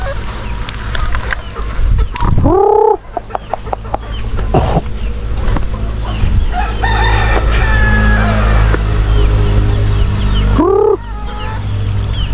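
Chickens in a mini backyard farm, with two loud rooster crows standing out near the start and end over steady clucking and yard noise, mostly alone without talk.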